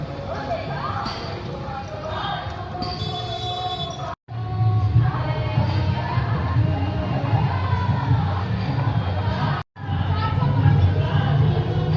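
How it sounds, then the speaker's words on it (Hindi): A large crowd of devotees gathers at a grand Durga Puja pandal. A steady hubbub of voices and shouts runs under scattered clatter and knocking, broken by two brief cuts. "माता रानी के दर्शन के लिए बड़ी संख्या में भक्तों की भीड़ पहुंच रही है"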